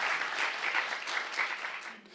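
Steady applause from a congregation at a church worship service, dense and continuous clapping that fades slightly toward the end.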